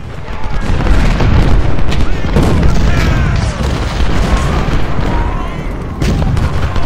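Cannon and artillery fire in the Ultimate General Civil War video game at the Battle of Malvern Hill: loud, repeated booming shots overlapping in a dense, rolling barrage with crackling volleys, sustained and heavy throughout.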